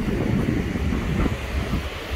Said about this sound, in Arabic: كاين شوية الريح الصباح ولكن غادي يحيد